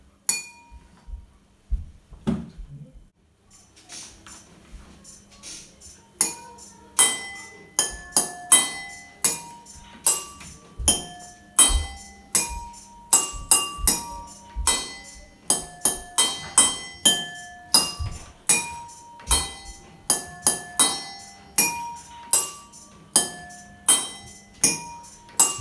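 Glass bowls struck by hand in a kitchen rhythm game, ringing clinks in a steady repeating pattern that builds from a few sparse strikes into a dense, layered sequence of bright, resonant tones.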